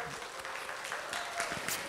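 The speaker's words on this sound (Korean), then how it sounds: "우리 선우가 박수 한번 할까요?" Congregation at a middle-school Sunday service at Gangnam Central Baptist Church claps briefly, a soft, fairly distant patter of hands with a faint steady tone and some murmuring underneath.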